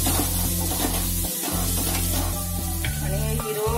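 Broad beans in a pan are stirred with red chili powder, producing a loud, close sizzle with rhythmic scraping strokes and short pauses between stirs, and no talk.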